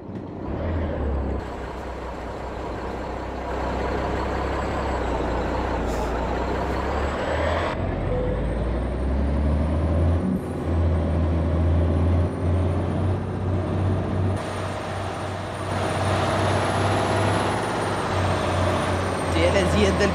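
A Mack truck hauling 42 tonnes in American Truck Simulator parks with a loud, steady diesel drone and hissing air-brake bursts, engine load rising partway through. Someone talks over it.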